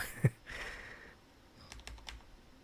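Typing on a new computer keyboard: a quick burst of close key clicks, then a short pause and a few scattered, lighter taps, with no voices.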